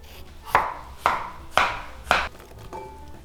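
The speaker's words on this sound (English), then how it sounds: "we want to cut the cucumbers in small bite sizes" Knife chopping cucumbers into bite-size pieces on a cutting board, five crisp even chops close up at a steady half-second rhythm, the last one softer, with no talking.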